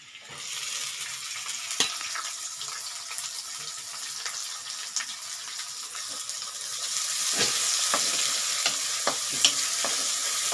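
Onion and green chillies sauté with garlic and ginger in a pan. A continuous soft sizzle is broken by occasional stirring clicks, and it grows a little louder and brighter toward the end.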